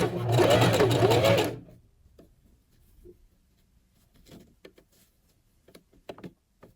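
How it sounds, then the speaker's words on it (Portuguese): A sewing machine runs a straight seam over folded bias binding on a women's V-neck dress shirt, a loud close whirring burst lasting over a second, then stopping, followed by quiet scattered handling clicks and taps. "você vai dobrando o viés para só então realizar a costura reta"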